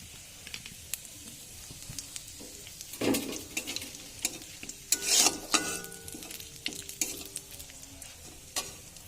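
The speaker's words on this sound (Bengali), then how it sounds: "তেল গরম হয়ে গেছে, দিয়ে দিচ্ছি আমি জিরে, একটা তেজপাতা, একটা শুকনো লঙ্কা আর গোটা গরম মশলা ফোড়নে" Cumin seeds, a bay leaf, a dried red chilli and whole garam masala spices sizzle in hot oil in a home kitchen, a soft steady hiss broken by clinks of a spoon stirring and a louder crackling burst midway.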